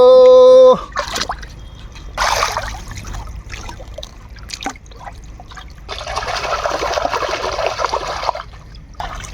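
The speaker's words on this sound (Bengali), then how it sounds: "ভরত ভালো করে ধুইস দেখ" Pieces of goat meat are rinsed and swished in water, with two stretches of splashing and trickling: a short burst, then a longer, steadier wash. Quieter handling sounds fall between them.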